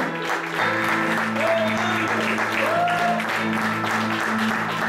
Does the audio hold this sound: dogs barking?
no